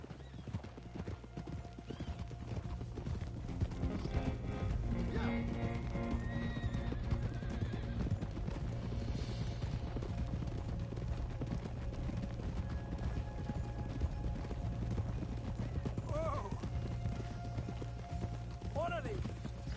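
Horse hooves clip-clop steadily near a thoroughbred's stable in Red Dead Redemption 2, with a couple of whinnies rising late, all over a continuous low game ambience and music bed.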